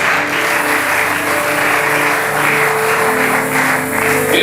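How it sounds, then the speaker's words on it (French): Church congregation at a Sunday service applauding and acclaiming the Lord, a loud steady roar of clapping and cheering voices that holds evenly throughout. "Acclame très fort le Seigneur."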